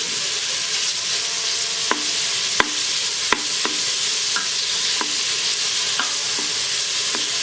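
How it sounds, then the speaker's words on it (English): Bacon sautés in an Instant Pot with a steady, close sizzle and frying hiss, broken by several sharp clicks and scrapes of a utensil stirring against the metal pot. "Alright, we're sauteing some bacon."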